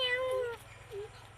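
A voice imitates a cat's meow, one drawn-out harmonic mew followed by a shorter, fainter second call, with no other talk.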